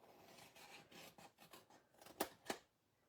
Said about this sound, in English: we're going to cut this one right out